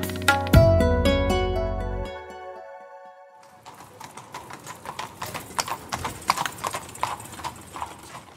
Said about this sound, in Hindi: बंबई के वॉटसन होटल के सामने एक तांगा रुकता है, एकदम चमचमाता हुआ। इसके आगे दो गठीले हंगेरियन घोड़े बंधे हैं।